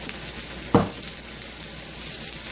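Chicken breast searing in a hot pan gives a steady, fairly loud sizzle throughout, with one brief clunk near the start and no voices.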